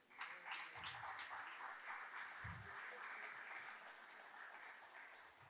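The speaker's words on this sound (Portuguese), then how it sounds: "Aplauda Jesus por isso aí." A church congregation applauds at a pastors' gathering, a steady wash of clapping that stays fairly even and moderately distant across the whole stretch, with a few low thumps underneath.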